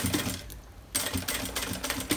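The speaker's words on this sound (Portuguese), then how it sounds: "Agora, vou costurar este outro lado aqui." A sewing machine stitches along one side of fabric for a small travel jewelry case. It runs close and steady for a moment, pauses briefly, then resumes in quick rhythmic bursts.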